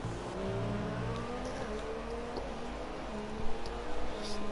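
A McLaren Formula 1 race car at round 7 in Canada runs down the back straight toward a tight turn, its engine a steady, high droning whine that holds throughout with only slight swells near the end.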